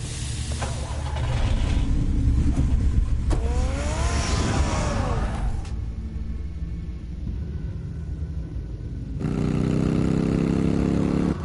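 Batman's car in the Telltale Batman game, a loud continuous engine rumble with a rising rev partway through, easing off, then surging again near the end.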